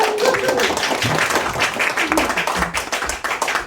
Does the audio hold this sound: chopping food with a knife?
no